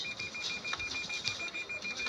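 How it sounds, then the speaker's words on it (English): A Lexus sensor's steady, evenly spaced electronic beeping repeats for the whole stretch, a single high tone pulsing over a low background hum. "their Lexus starts beeping out of control"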